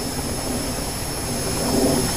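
A 1952 F9F-5 Panther jet engine in the DCS flight simulator, heard as a steady, loud, droning whine and roar with a constant high tone, uninterrupted and without talk.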